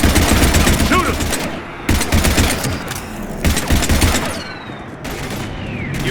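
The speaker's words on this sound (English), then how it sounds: "We're taking heavy fire." Heavy gunfire in the Mass Effect Legendary Edition video game rattles as loud, dense bursts of rapid automatic shots with brief gaps between volleys, close and sustained, with a faint whistling streak overhead.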